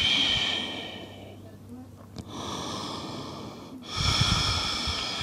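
Soft, fluid breathing during a hip stretching exercise: slow inhales and exhales through the nose, close and gentle, with a louder breath near the end and faint voice traces between.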